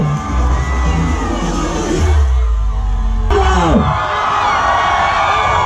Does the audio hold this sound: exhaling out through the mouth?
no